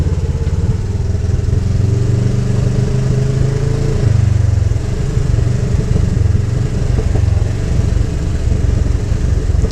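Polaris RZR 1000 High Lifter side-by-side engine running in low gear on Westpoint, Tennessee trails, a loud steady drone with a shift in pitch midway, close and continuous with no talk.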